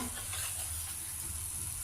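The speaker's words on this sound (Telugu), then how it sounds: "కొద్దిగా జీలకర్ర పోపు వేయించుకోవాలి" Cumin and lentils sizzle in hot oil for a tempering for tomato coconut chutney, giving a soft, continuous frying hiss that stays fairly quiet with no voices over it.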